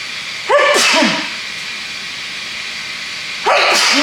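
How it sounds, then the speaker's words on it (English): Two sharp sneezes spaced a few seconds apart, loud and close, over a steady background hiss. "hang on, I gotta sneeze."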